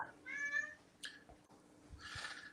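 A cat meows twice nearby, a drawn-out cry followed after a pause by a second, shorter one, fairly soft in a quiet room.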